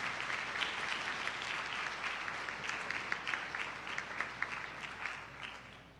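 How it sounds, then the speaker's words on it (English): A primary school graduating class and audience applaud at a graduation ceremony, a dense, steady wash of many hands clapping that carries on evenly throughout. "Give yourselves a round of applause."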